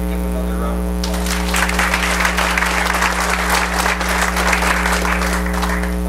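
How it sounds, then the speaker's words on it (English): Sustained applause from an audience at a school district community meeting, starting after a second and continuing steadily, with a strong low electrical mains hum running underneath throughout. "Can we give them another round of applause?"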